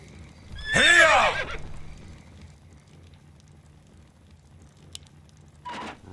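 Horses in the Warcraft 3 video game let out a loud, rising whinny near the start, followed by a quiet stretch and a short burst of hooves and rustle near the end.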